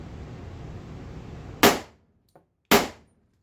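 A Glock pistol fitted with a 10mm/.40 lower fires two sharp, loud test shots about a second apart, each with a short decaying ring, after a steady background hiss and a faint click between them.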